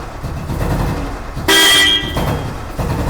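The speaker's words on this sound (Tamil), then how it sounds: "இதில் ஹார்ன் வந்து ரொம்ப ஷார்ப்பாக இருக்கும்," A single sharp, loud horn blast lasting about half a second cuts over a running Royal Enfield motorcycle engine idling nearby.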